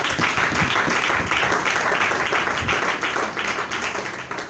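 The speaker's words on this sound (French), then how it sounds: "On acclame Jésus." A church congregation applauds to acclaim Jesus at a youth gathering, a steady dense wash of many hands clapping that tapers slightly toward the end.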